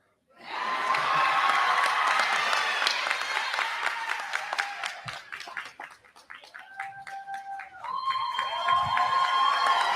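A large graduation crowd at a high school ceremony for the Class of 2023 applauds the speakers, with dense sustained clapping, whoops and cheering that dips briefly midway and then swells again.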